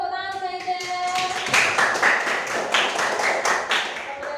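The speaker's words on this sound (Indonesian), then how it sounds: "beri tepuk tangan Mas Aida." A classroom of young pupils claps rhythmically for a classmate named Aida, following a teacher's voice, with the quick claps continuing steadily to the end.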